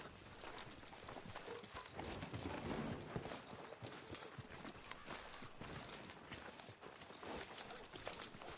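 Horse hooves clip-clopping steadily in the Red Dead Redemption 2 video game, a continuous close rhythmic patter of hoofbeats over an outdoor ambience with faint background sounds.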